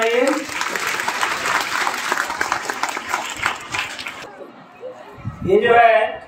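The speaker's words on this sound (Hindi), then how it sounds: "लोग, ताली बजाइए, ताली बजाइए।" A school audience at a class 12 results announcement claps in steady, dense applause for about four seconds before it cuts off, followed by a voice speaking.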